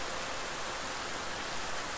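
Steady rain or rushing water fills the video game Bramble: The Mountain King as an even, hissing wash of noise that runs unchanged from start to finish, fairly soft and with no voices over it.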